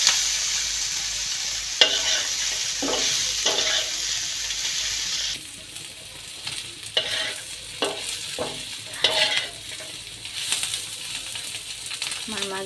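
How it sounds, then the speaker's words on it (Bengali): Puti fish coated in spices and chopped green chilli fry in a pan with a steady loud sizzle, broken by repeated scraping and stirring strokes; no voices are heard. "সবগুলো মাছের সাথে সুন্দর করে ফ্রাই করে নেব"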